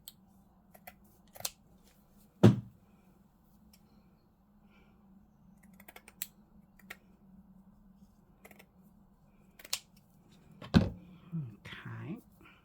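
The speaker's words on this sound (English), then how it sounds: "let's just cut cut one a bit down and see." Scissors cut paper for a junk journal craft in a quiet room: several sparse, close, crisp snips and clicks spaced irregularly, with faint handling sounds between them.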